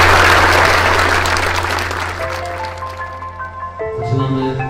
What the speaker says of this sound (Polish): I tu się należą ogromne brawa dla tych panów.